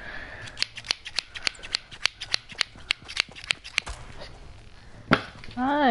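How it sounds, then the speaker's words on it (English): Scissors snipping hair in a video game, a quick regular series of sharp metallic cuts, close and crisp, followed by a brief higher-pitched sound at the end. "I got scissors, I'm gonna cut my hair."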